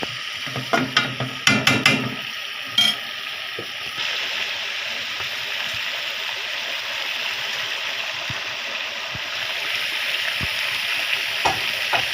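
A few clattering stirs of eggplant and fish head curry in a pan, then a lid goes on and a steady, muffled sizzle carries on alone.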